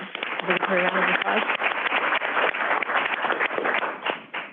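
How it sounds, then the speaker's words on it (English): Applause from a plenary session audience at a water forum, a steady broadband patter lasting throughout, with a voice speaking briefly over the start. "let's do the round of applause"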